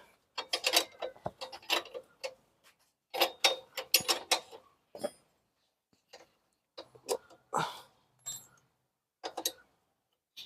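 Metallic clicks and ratcheting of a spanner loosening the nuts on a Honda CD 110 motorbike to adjust its drive chain, heard in several close bursts separated by brief pauses, with no talk.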